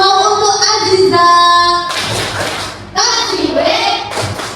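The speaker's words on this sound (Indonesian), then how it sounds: "Kita beri tepuk tangan untuk Aziza." A classroom of children clapping together, a dense burst of applause breaking out after a child's speech and swelling again, loud and close.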